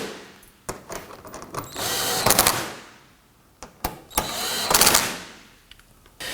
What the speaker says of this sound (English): We're going to get all of our screws started first and then come back and snug them down